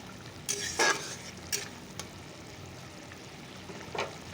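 Puti fish cook in mustard paste in a pan, giving a soft continuous simmering sizzle with a few sharper bursts of spatula scrapes and stirring up close.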